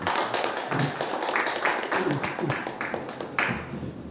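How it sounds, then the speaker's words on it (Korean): Applause rises from the audience at a Korean signing ceremony for apartment workers, a dense patter of claps at moderate distance with faint voices mixed in throughout. "그 큰 박수 한번 주시겠습니다"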